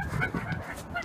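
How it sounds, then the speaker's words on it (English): A wild chicken in a grassy field gives a short run of soft, repeated clucks, close by and fairly quiet, with no talking over it. "we'll be observing the wild chicken, its natural habitat"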